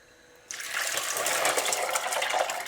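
Tap water poured into a bowl of ice for an ice bath, a sudden start followed by a steady rushing gush that fills the rest of the moment, close by.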